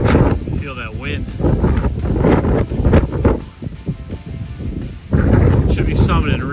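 Strong wind gusts roar above the tree line on a Baxter State Park hike in hurricane-force conditions, buffeting the microphone in loud, uneven bursts while a person talks close by.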